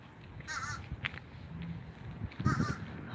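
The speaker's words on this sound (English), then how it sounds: "I think those are the crows." Crows caw on a village street in Oyster Bay, New York, with two separate harsh calls about two seconds apart, fairly distant and faint over outdoor background noise.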